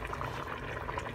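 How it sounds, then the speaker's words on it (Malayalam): A pot of Bukhari rice bubbles softly on the stove, its lid just lifted, giving a faint, steady simmering fizz with no talking. "മൂടി തുറന്നപ്പോൾ തന്നെ നല്ല ഇങ്ങനെ ബബിൾസ് വരുന്നുണ്ട്"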